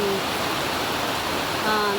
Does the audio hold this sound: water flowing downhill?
yes